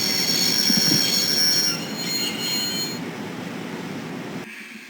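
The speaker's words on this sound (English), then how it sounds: "I'd always wanted to stop a train, and now was my chance." A train in the video game Broken Sword brakes to a stop, its wheels squealing loudly with high metallic screeches over a heavy rumble that eases and then cuts off abruptly.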